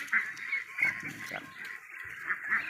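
Ducks, including Muscovy ducks, let out to graze on grass in the evening give repeated nasal quacks and honks, close by, in short overlapping bursts.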